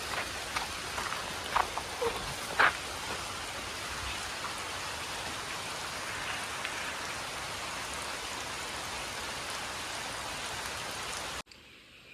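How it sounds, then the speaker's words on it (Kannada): Steady rain falls throughout, a dense continuous patter with a few louder drops near the start, with no talking over it. "ಸಾಕು ಬಾ, ಮಳೆ ಬರ್ತುಂಟು."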